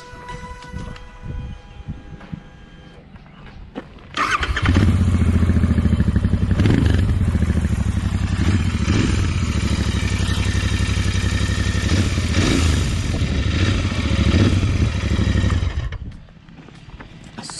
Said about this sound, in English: you get this note when you switch on, and believe me, it's a wonderful exhaust note